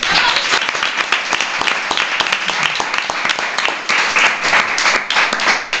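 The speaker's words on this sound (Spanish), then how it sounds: "Aplaudimos en cuanto decís el nombre" An audience breaks into sustained, dense applause, many hands clapping together loudly throughout.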